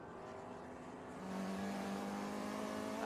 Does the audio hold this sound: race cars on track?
yes